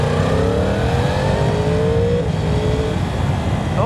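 A 2020 Yamaha R1M superbike on a road ride gives a steady, loud engine drone with rising and falling tones, as if coasting off the throttle, with wind rush throughout.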